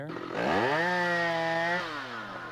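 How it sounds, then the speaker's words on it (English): At a basketball arena during a Blazers–Timberwolves game, a chainsaw sound effect blares over the speakers, a rising engine rev that holds briefly and then drops off, with a voice speaking briefly. "can we stop with that damn chainsaw?"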